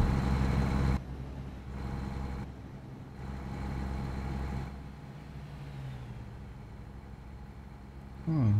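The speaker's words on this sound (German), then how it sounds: "Weiß gar nicht, ob denn hier der Sound so laut ist vom LKW" An American Truck Simulator truck hauling a 43-ton milling machine from Kennewick to Port Angeles drones with a loud, steady low engine hum that shifts level a few times as it drives, continuous from start to end.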